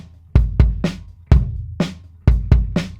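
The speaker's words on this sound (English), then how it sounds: "And if I play all three bass drums together," Three bass drums struck together in a drum mix with parallel compression give deep, punchy kicks with dense tails, close and loud, in a repeating pattern of three hits per bar.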